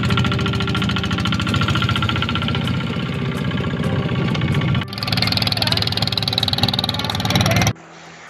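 Boat engine running steadily and loud on a river trip, with a rapid knocking throb throughout, a brief dip then a harsher, brighter roar, cutting off abruptly near the end.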